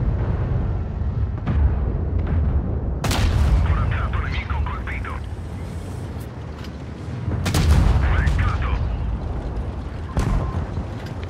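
Tank cannons fire in the World of Tanks Blitz video game: two or three heavy booming shots with sharp cracks land several seconds apart over a constant low rumble of engines and battle.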